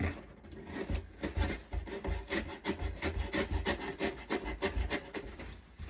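A blade slides steadily down the corner of a cardboard shipping box, giving a fast rhythmic scraping and rasping close up, with no voices.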